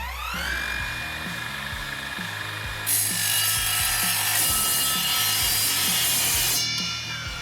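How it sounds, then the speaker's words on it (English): An Evolution 40V cordless miter saw cuts through 1-inch steel angle iron with a 1/8-inch wall: a loud, steady motor whine with harsh grinding and a brighter rasp partway through, running continuously for several seconds. "here's the angle iron after I cut it with the Evolution saw"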